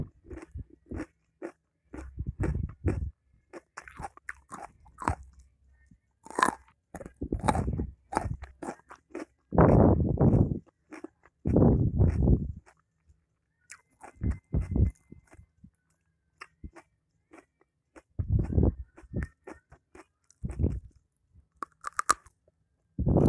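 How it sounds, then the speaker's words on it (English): Fresh carrot crunched and chewed close to the microphone, sharp crisp bites followed by rhythmic munching in irregular bursts separated by quiet pauses, with no talking. "just hear the sound of a fresh, crackling, crunchy, fresh carrot."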